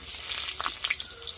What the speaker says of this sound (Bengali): এবার এখানে আলু দেবো, আলু ভাজবো।